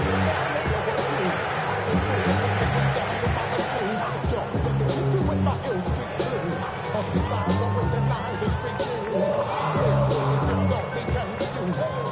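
Stadium crowd in the Madden 26 football video game, a constant loud roar of cheering and babble at an NFL game, with a commentator talking over it throughout.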